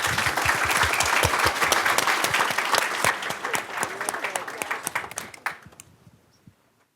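A crowd at a tech meetup applauds a venture capital panel, the dense clapping filling the room and then thinning to scattered claps before fading to silence.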